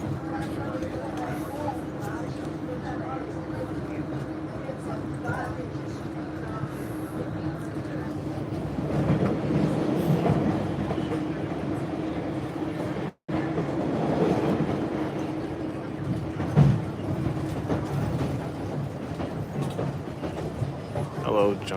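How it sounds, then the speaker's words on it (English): A red line transit train runs on its rails with a steady rumble and low hum, brief clickety-clack and a short dropout near the middle, while someone talks throughout. "So the red line's running at an acceptable rate of speed right now."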